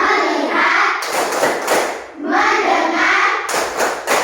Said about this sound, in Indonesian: Kita berdiri untuk melakukan kegiatan penyegaran otak dengan tepuk fokus.